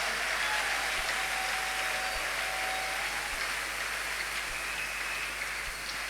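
A church congregation applauds and cheers loudly for God, a dense, continuous wash of clapping that holds steady, with a faint hum underneath.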